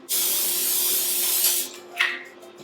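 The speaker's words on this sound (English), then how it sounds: "we want to spray the top of this with some of our spray so that it gets nice and crispy" Cooking spray hissed from a can over the top of a taco ring, a steady spray lasting about one and a half seconds, then a second brief spurt, close and loud with no talking.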